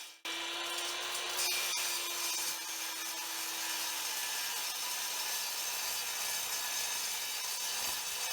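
A hand saw cuts aluminium tube into pieces with a continuous, even rasping scrape, close and steady for the whole stretch after an abrupt start, with no voices.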